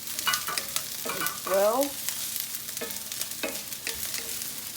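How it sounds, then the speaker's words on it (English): Spring onions are stirred into a hot pan with already-sauteed onions, giving a close, crackling sizzle with scraping stir strokes that come in short bursts. A voice speaks briefly over the cooking. "I'm going to add my spring onions"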